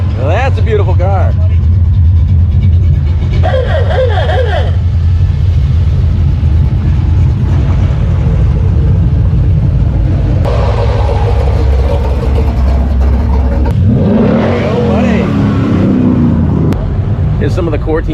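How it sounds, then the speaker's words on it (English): Muscle show cars roll in through the gates at a car show one after another, engines rumbling steadily at close range under continuous talk and crowd chatter. "These show cars are piling in because we haven't let them in yet"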